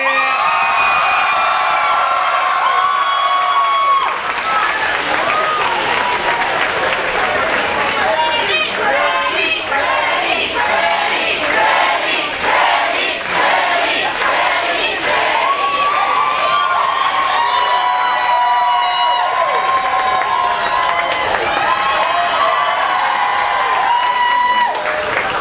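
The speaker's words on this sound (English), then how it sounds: "Please give a round of applause for number 28, Beth Camp." A convention crowd at a comic con adult cosplay contest applauds and cheers for a masquerade winner, loud sustained clapping with whoops and shouts filling the room, a voice briefly heard over the noise.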